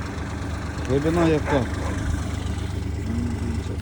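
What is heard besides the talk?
tractor engine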